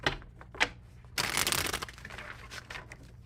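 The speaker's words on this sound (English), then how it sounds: "Last shuffle." Tarot cards shuffled close up during a reading, a soft riffling burst after a few light taps, then continuing quieter papery rustling.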